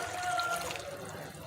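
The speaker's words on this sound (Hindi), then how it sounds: "1 कप पानी ऐड कर रही हूँ मैं इसमें" Water poured into a pot of meat stew with onion and spices, a steady splashing, trickling pour close up that runs through the whole moment, with no talking over it.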